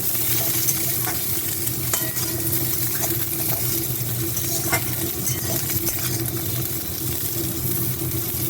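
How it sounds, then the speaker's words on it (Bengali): Pointed gourd frying in just a spoonful of oil with cumin, a steady close sizzle with faint stirring scrapes throughout, no talking. "এই তেলেতেই কিন্তু পটলটা ভাজা হবে"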